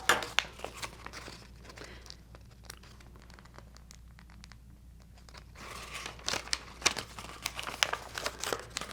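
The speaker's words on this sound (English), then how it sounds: "you can go ahead and put your next piece of contact paper on top" Contact paper and tissue paper are handled for a craft project, giving close crinkling and rustling with sharp crackles, busy at first and again toward the end, with a quieter stretch in the middle.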